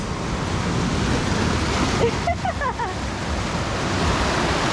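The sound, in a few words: big ocean waves breaking on rocks at El Tunco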